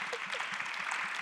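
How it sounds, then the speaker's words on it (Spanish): Applause from a live panel audience at the Interplay 2024 event fills the moment, a steady wash of clapping held at an even level for about a second. "Vou pedir un aplauso."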